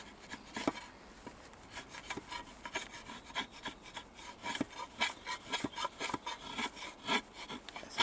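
A Cold Steel Special Forces shovel blade shaves wood in a series of short, uneven rasping scrapes, close up and moderately quiet, with no talking.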